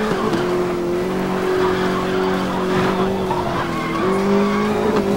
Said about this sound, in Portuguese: derrapei sem necessidade ali